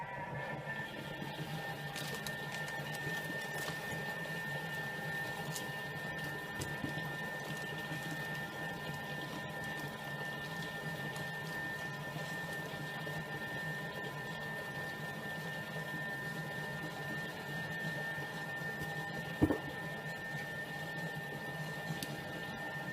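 A kitchen stand mixer runs steadily, mixing flour at speed 5 for about twenty seconds, a constant motor whir with a high tonal hum and no talk.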